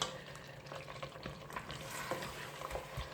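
Spiced masala of onion and tomato for a turnip and meat curry being stirred and fried in a pan, with soft scraping strokes and a low steady sizzle that stays quiet throughout, and nobody speaks.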